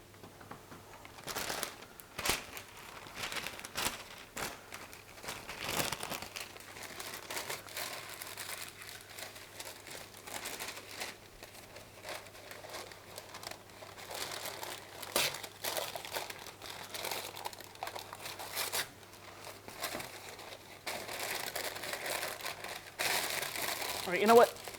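Baking paper is crumpled and crinkled by hand at close range, with a steady run of crisp rustling and crackling bursts and some faint talk underneath.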